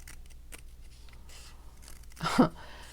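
A single short snip of scissors cutting paper for a handmade journal, a brief crisp crunch standing out clearly against a quiet background.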